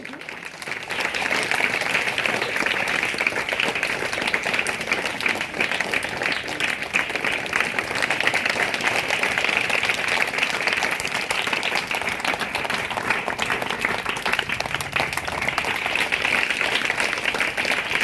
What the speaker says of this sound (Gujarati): મિત્રો આપણે તાળીઓનો ગડગડાટ ચાલુ રાખીશું।